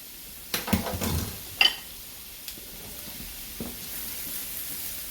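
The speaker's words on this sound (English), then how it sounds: "our butter is melted and ready for the cauliflower, so I'm just gonna put that in and saute it" Cauliflower dropped into melted butter in a pan sizzles in a short burst with clattering stirring, then settles to a quieter, steady sizzle.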